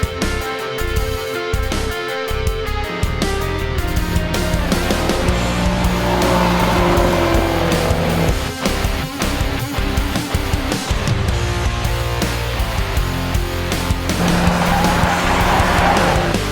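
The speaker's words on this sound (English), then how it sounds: "The heavy Mustang flew through the slalom" Heavy Ford Mustang on air suspension charging through a slalom, its engine roaring hard while tires squeal and skid repeatedly through each turn, loud and continuous without voices.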